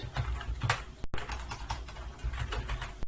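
Computer keyboard typed on nearby while writing a Python hello-world line, a quick irregular patter of key clicks with a brief gap partway through.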